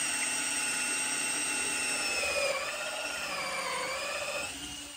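A long 8mm drill bit bores all the way through a piece of wood for a homemade amphibious boat. Steady, high whining drill drone with slight shifts in pitch, fairly quiet and continuous, with no voices.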